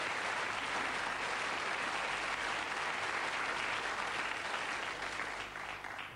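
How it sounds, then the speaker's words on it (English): A game show studio audience applauds a contestant who has just won £650, giving a full, continuous round of clapping that holds steady before easing off at the end. "Give her a round of applause for that."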